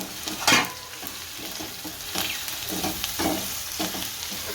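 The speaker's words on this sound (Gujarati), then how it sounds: "આને હલાવી નાખશું સારી રીતે" A spoon stirs spice masala into stuffed okra in a sizzling pan, giving several scraping strokes over a steady soft frying hiss, close by and without speech.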